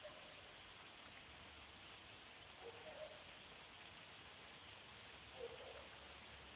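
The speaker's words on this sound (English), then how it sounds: "you'll get to hear the rain." Soft, steady patter of rain, faint and continuous, with a couple of brief quiet background sounds.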